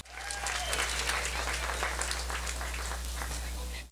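Sustained applause from an audience, many hands clapping loudly and evenly, with a low steady hum underneath, fading out at the end.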